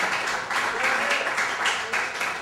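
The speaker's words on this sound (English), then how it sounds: "Let's give him a great round of applause" An audience at a poetry reading in a branch library applauds a poet taking the stage, a lively, uneven patter of clapping from a modest crowd with a few murmured voices and cheers mixed in.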